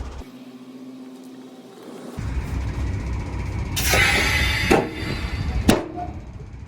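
Semi trailer tandem locking pins snap into place outdoors: a sharp metallic clunk near four seconds, another around five, and a loud crack near 5.7 seconds over steady truck engine idle and air noise.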